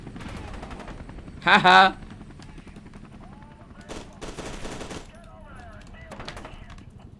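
Gunfire in the video game F.E.A.R. 2, a loud close burst of rapid shots followed by scattered sharper single reports and muffled bangs, over a low game rumble with a person talking and laughing.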